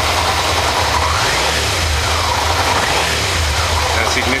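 A car engine revs steadily during an ignition pulse tachometer test, a loud, continuous near drone with rising and falling pitch and no talk over it.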